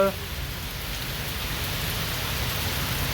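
Dense, steady monsoon rain pours down in a continuous hiss, heavy and close, with no pauses across the whole stretch.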